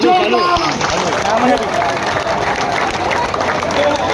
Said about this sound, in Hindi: अभी तक तालियां सुनाई